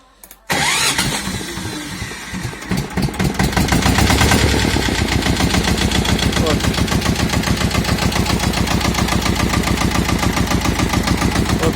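A Harbin 180 Chinese tractor engine cranks and catches, then settles into a loud rhythmic diesel chug close by, pulsing evenly for the rest of the clip.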